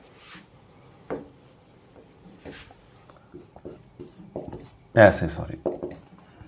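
Writing on a board in a physics lecture: scattered short scratchy strokes and taps, with a louder burst of rubbing marks toward the end. A voice speaks briefly in between.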